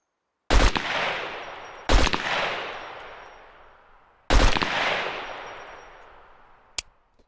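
Automatic gunfire in the video game SCUM: three loud bursts, each with a sharp crack and a long decaying echo, then a single short shot near the end, with no talk.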